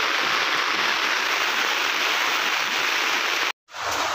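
Heavy typhoon rain pours down in a dense, constant roar, loud and unbroken, with a brief dropout near the end before the downpour resumes.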